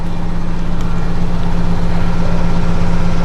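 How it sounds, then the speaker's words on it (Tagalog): A household washing machine runs during a laundry cycle, giving a loud, steady low motor hum with a faint regular churning pulse that continues throughout, near and with no talk. "pasensya na kayo sa ingay ng aming washing dahil ako ay naglalaba."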